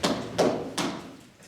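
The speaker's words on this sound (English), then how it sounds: "There was a knock on the door." Three evenly spaced hollow knocks land on a door, followed by a faint fourth, close and fairly loud in a room during a stage variety show.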